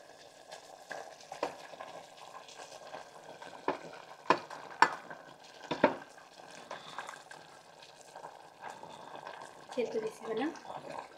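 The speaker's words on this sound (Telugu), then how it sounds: "ఇప్పుడు ఈ మసాలా గ్రేవీ అంతా వేస్తున్నానండి." Masala gravy for a mutton curry sizzles and bubbles in a pot as it is stirred, with intermittent scraping knocks and a soft frying hiss, fairly quiet and close.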